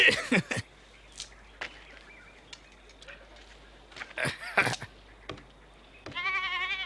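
A goat bleats while being milked, giving a short wavering cry near the end after a few scattered sharp noises over quiet background.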